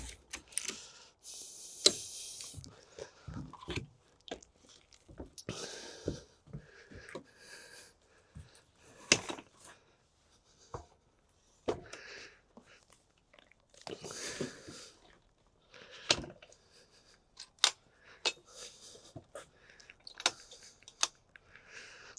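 The Heybike Horizon, a full-suspension folding e-bike, is folded up and latched shut, heard as scattered close clicks, clanks and light rattles separated by quiet gaps.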